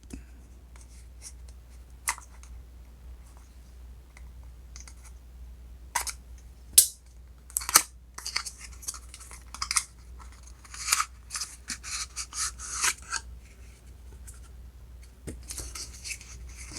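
A Samsung SmartTag box held shut by a single strip of tape is opened from the bottom: sparse, quiet scraping, peeling and papery rustling in short irregular bursts up close, with long near-silent gaps and no voices.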